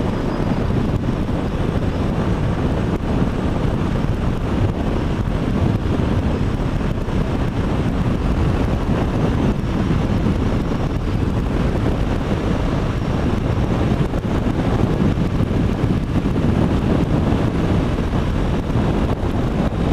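Strong wind roars continuously over the microphone while riding a Yamaha Lander 250 motorcycle on an open road, a loud, unbroken buffeting rush with no clear pauses.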